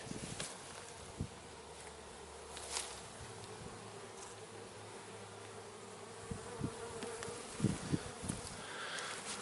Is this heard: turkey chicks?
no